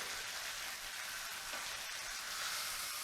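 Lamb chops for Finnish Easter fry in a pan with a steady, faint, even sizzle and no voices over it.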